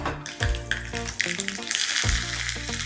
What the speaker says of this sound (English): Add some coconut oil. Add in some mustard seeds